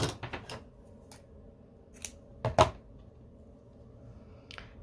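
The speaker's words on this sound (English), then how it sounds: "We're going to cut the yarn, leaving a tail." Scissors snip crochet yarn with a few quiet, sharp clicks close by, the loudest pair near the middle, in an otherwise hushed room.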